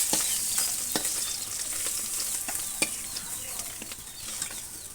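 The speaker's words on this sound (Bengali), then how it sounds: "মাছগুলা ভাজা ভাজা হয়ে গেছে।" Fish sizzling and frying in oil for a pointed gourd and jackfruit seed curry, a continuous moderate hiss broken by scattered crackling pops at irregular intervals.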